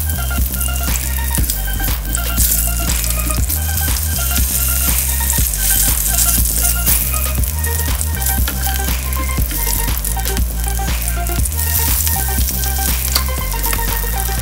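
Onion and garlic fry in hot oil for Mexican red enchiladas, a steady loud sizzle running without pause under a constant low kitchen hum, with scattered clicks and scrapes throughout.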